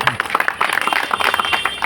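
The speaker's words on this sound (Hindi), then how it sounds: "अपने लिए तालियां बजा दीजिए।" Audience applauding at a local celebration honouring a Sadar Bazar MLA elected for a fourth time, a dense, steady patter of many hands clapping throughout, fairly close and loud.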